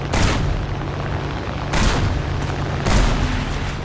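Three heavy booms from a Churchill I tank's gun firing at an aircraft in War Thunder, spaced roughly a second and a half apart, each a sharp loud blast with a rumbling tail over a steady low engine drone.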